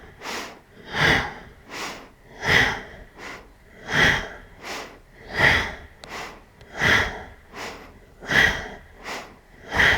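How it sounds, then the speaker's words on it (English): Ujjayi breathing through the nose during a yoga class, slow rhythmic cycles of close, raspy inhales and exhales with a soft throat-constricted hiss, about seven breaths in a steady pattern. "Still Ujjayi breath."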